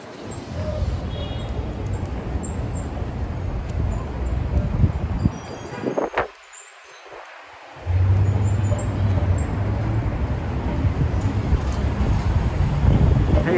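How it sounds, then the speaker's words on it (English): Wind buffeting a microphone on 33rd Street in New York City near the Hotel Pennsylvania: loud, rumbling gusts with traffic and street noise, briefly dropping off before returning. "sounds very windy in the city"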